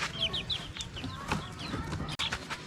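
Young Boston hatch three-way cross chicks about a month and a half old cluck and peep nearby in short repeated calls, with a sharp click partway through.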